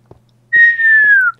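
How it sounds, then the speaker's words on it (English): A clear human whistle, one long sustained tone gliding slowly downward, loud and close, heard alone over a faint low hum during a Minecraft session, with a few soft clicks before it. "Did you quit with the whistling?"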